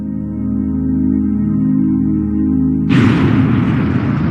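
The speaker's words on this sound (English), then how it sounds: "Upon detonation, the fireball illuminated the sky, forming a unique mushroom cloud never seen before." A 1945 Manhattan Project atomic bomb test explosion: a sudden loud broadband blast erupts partway through, following a steady low droning bed, and its roar rumbles on to the end.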